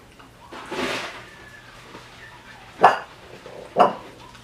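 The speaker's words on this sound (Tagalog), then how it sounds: "Ingay ng aso, pasensya guys" A household dog gives two sharp, separate barks a second apart near the end, following a softer earlier yelp, in an indoor home setting with faint background noise.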